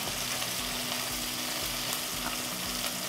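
Red curry chicken ingredients sizzling and caramelizing in a hot pan, a dense, continuous loud fry with crackling spits throughout, close up with no voices.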